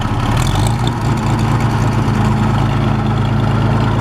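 An Oliver 70 tractor engine in third gear runs loud and close with a steady low throbbing drone and a rhythmic beat, holding at a constant level throughout.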